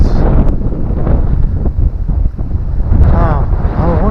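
Gusting wind buffets the microphone beside a canal on a countryside walk, a loud, continuous roar that surges and eases, with voices talking faintly underneath.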